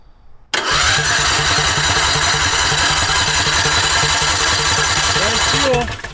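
A King Midget microcar fitted with a swapped-in engine cranks briefly, then catches and runs at a steady, loud, close idle with a rapid even pulse, with no talk over it.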